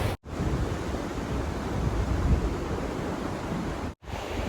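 A waterfall spills from a diversion dam in Zion National Park, a broad, loud, continuous rushing roar with no talk, cut by two brief dropouts.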